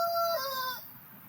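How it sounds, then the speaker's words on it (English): A rooster crows once, ending in a drawn-out, fading final note, close and clear over a steady low background hum. "Even the rooster is excited."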